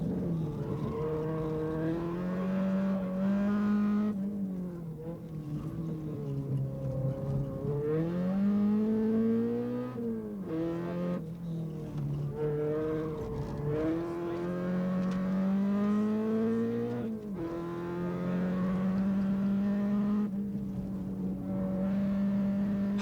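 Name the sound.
Volkswagen Golf GTI rally car driving through street stage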